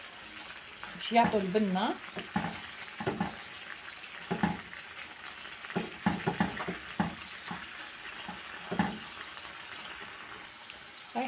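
Garlic fries in oil in a pan for a chicken chtitha dish, a soft steady sizzle heard close up beneath someone talking throughout, with occasional stirring knocks.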